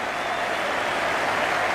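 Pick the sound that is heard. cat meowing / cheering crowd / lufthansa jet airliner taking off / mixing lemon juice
cheering crowd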